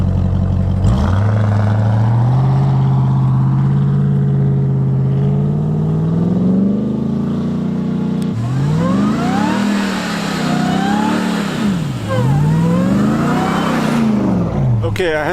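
A Ram TRX truck on an uphill run in shallow snow revs hard, its engine climbing steadily and then surging and dropping in repeated swells as the tires spin, loud and close.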